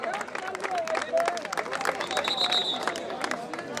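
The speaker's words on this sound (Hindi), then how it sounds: "जोरदार तालियों से अभिनंदन करें इस खिलाड़ी का" A crowd at an outdoor kabaddi match claps and cheers for a player in a rapid, crackling mix of claps, with babbling voices and shouts running through it.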